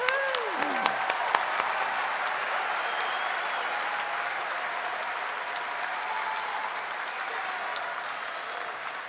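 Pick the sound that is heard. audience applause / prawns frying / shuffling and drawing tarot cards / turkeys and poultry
audience applause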